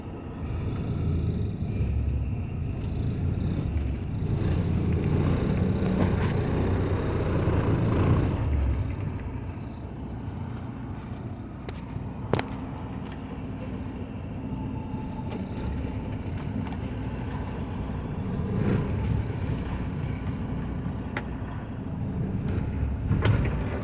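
A semi truck pulling its trailer forward while the tandems are slid, producing a steady, low diesel rumble that surges and eases, with occasional faint clunks and no talking.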